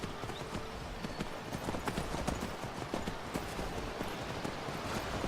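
A horse's hooves clip-clop steadily and evenly in Skyrim at Ivarstead, close and continuous over a dense game soundscape.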